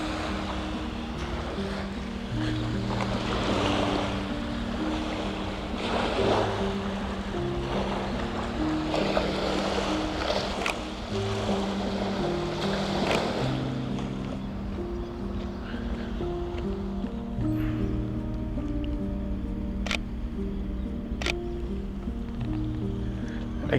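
A boat moves on the water near an island, its low engine drone steady under lapping waves and gusts of wind buffeting the microphone, with a few sharp knocks near the end.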